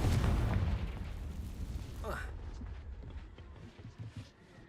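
A Confringo blasting spell fired in Hogwarts Legacy lands with a loud, deep burst, then a fading rumble and a brief rising whoosh as the debris settles.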